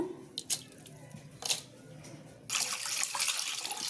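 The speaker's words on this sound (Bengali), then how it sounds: "চিংড়ি মাছগুলো ধুয়ে নিমু" Shrimp being washed in water, a few splashes and sloshes, then a steady running-water rush in the last second or so, close by, no talk.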